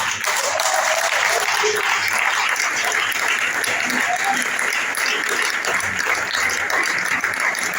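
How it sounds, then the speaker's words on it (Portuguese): A church congregation applauds during a communion service, dense continuous clapping filling the room at a steady loud level for several seconds with no break. "Você pode desocupar suas mãos e aplaudir a palavra."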